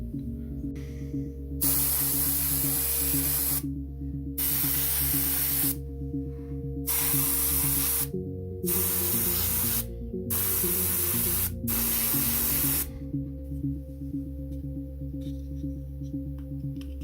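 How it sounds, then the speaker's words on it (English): Spray paint hissing from a can onto the inside of a model spaceship cowling in dark grey, in several separate bursts of about two seconds each with short pauses between them, heard over a steady low background hum. "spray the inside of each of the cowling with a dark grey just to cover that up before attaching the two halves"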